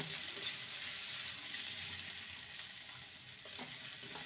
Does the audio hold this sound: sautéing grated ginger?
yes